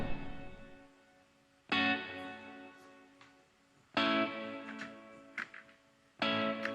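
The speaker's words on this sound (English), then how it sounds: "So there's a guitar strum that happens with the snare" Strummed guitar chords hit together with a snare in a pop-soul production of a song, three bright full strums about two seconds apart, each ringing out and decaying, with no voices.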